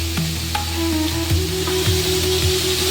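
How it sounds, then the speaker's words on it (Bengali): Dhenki greens with turmeric and salt are stirred in a hot pan, a steady sizzle close by with a few soft scraping strokes and a low constant hum underneath. "এখন একটু নেড়ে চেড়ে নেব।"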